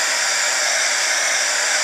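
Heat embossing tool blowing hot air onto a card: a steady, loud, close whirring blower hiss, continuous and unchanging, with no voices.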